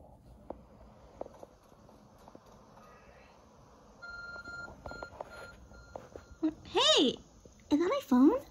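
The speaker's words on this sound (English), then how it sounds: "I think that is my phone." The Arc Phone in Pokémon Legends: Arceus gives off a series of electronic beeps and rising warbling chimes, loud and close, over a soft game ambience with faint footsteps, the tones growing stronger toward the end.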